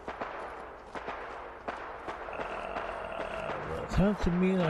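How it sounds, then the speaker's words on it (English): Distant gunfire crackles in Fallout 4: scattered sharp shots pop irregularly in the background while someone talks over them. "gunfire coming from over here"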